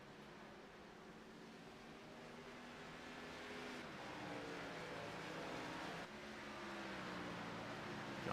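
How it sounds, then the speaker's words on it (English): A race car at Phoenix Raceway is heard from a distance, its engine note faint and steady under broadband noise, rising and falling in pitch as it shifts. "You can hear him kind of downshifting at times and doing different kind of things in the car."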